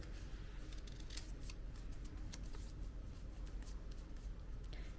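Scissors snipping fabric while trimming a bandana cosplay hat piece, with a steady run of close, crisp cutting clicks over a low background hum.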